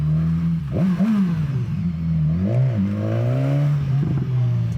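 A 2016 BMW S1000XR sport-touring motorcycle idles close by with a deep, steady exhaust note, blipped by the throttle into a couple of quick revs that rise and fall before settling back.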